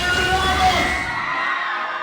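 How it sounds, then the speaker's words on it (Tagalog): Crowd of fans screaming and cheering at a movie premiere in a mall cinema lobby, a loud dense roar of high voices that fades off near the end. "Napuno ng hiyawan ang cinema lobby ng isang mall sa Mandaluyong"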